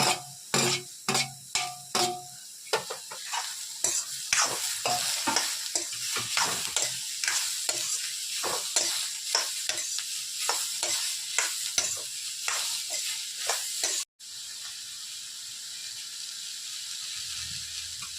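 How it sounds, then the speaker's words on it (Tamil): Onions and tomatoes are sautéed for chicken kurma. A spoon scrapes the pan in quick rhythmic strokes over a frying hiss, then the stirring stops and a smooth steady sizzle carries on alone. "தக்காளி நல்லா மசியாக வதங்கட்டும்"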